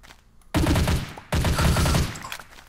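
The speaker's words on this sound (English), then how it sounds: "Let's see the MP5. This is another really good gun." An MP5 submachine gun fired in modded Minecraft: two rapid automatic bursts, each about three-quarters of a second long, separated by a brief silence, loud and close with no talking.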